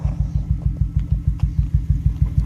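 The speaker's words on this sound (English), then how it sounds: "if you hear some rattling and stuff, that's because of the exhaust" A Lexus SC300 idles nearby with a rattling exhaust and a misfiring cylinder, its low engine throb beating in an even, chugging rhythm with faint clicks and rattles over it.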